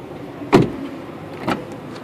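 A 2012 Honda Civic four-door's power windows operate in two short whirring bursts a second apart, the first louder, close by inside the car with no talk.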